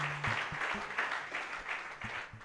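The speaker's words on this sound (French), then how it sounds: "Thank you for the 2 amens and the 2 clappings." A few people in a church congregation clap briefly during a sermon, a light, sparse patter of hand claps in a quiet hall.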